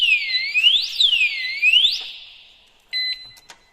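A loud electronic disc lock alarm on a Yamaha MT-25 motorcycle wails with rising and falling sweeping tones, fades out, then a short steady two-tone beep sounds near the end.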